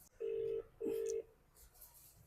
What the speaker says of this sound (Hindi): फोन उठा ही नहीं रही है भाई